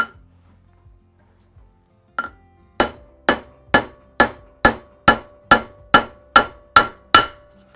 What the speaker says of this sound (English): I'm literally just tapping on this drift and the guide is working its way in.